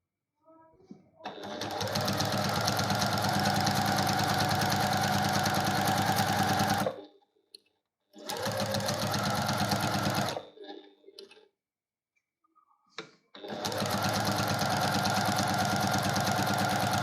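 A sewing machine stitches diagonal cross-hatch lines on a quilt block, running loud and steady in three long bursts separated by brief pauses, with faint handling noises in the gaps.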